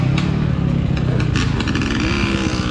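A Beta dirt bike engine runs close and loud, a rough, steady two-stroke drone with a faint rise in revs near the end. Light mechanical clatter sits under it.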